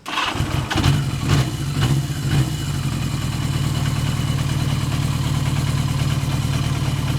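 A Yamaha XJ motorcycle engine cranks with a few rapid starter bursts, catches, then settles into a steady, close, rumbling idle that holds to the end.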